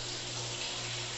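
Hot water runs steadily from a tap in a hotel bathroom, a close and constant rush with no talking.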